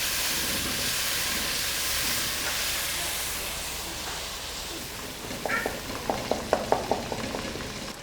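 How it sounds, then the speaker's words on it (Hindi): Whole spices—coriander, crushed red chilli and cumin with salt—frying in hot oil for an ojri (tripe) curry, a steady broadband hiss and sizzle with crackling pops growing louder near the end. "स्पाइसेस डालने के बाद इसको मैं ऑयल में भून लूँगी।"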